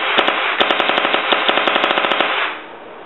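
A Planet Eclipse Etha paintball marker fires a rapid string of loud, close shots in an even, fast rhythm for over two seconds, then stops, leaving a brief fading hiss.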